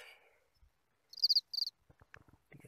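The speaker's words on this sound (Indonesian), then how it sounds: "bersama dengan suara-suara jangkrik" Two short bursts of cricket chirping ring out in near silence at night on Mount Sesean, Toraja, followed by faint scattered ticks and rustles.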